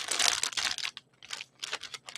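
Plastic wrapping crumpled up by hand, close crinkling in three quick bursts separated by short pauses.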